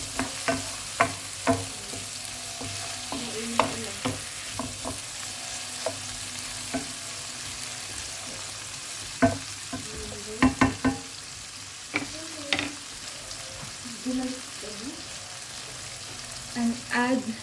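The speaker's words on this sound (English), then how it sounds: "Saute the fumed pork." Fumed pork sautés in a pan, a constant close sizzle broken by sharp scraping and stirring knocks from a utensil, with a few clustered clatters and no speech.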